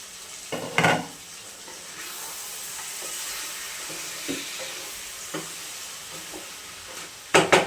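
Andhra-style crab curry simmers in a pan, a steady soft sizzle and hiss running throughout, broken by a few sharp clatters of stirring against the pan near the start and the end.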